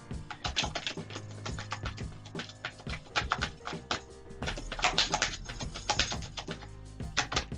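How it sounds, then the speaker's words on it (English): Tarot cards being shuffled briskly up close, a dense run of sharp tapping and slapping sounds with a low hum underneath. "Okay, one more shuffle."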